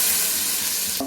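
Onion frying with ginger garlic paste in coconut oil for a Kerala chicken roast, a loud, dense, close sizzle that holds steady through a brief moment and ends with a short clink of a utensil.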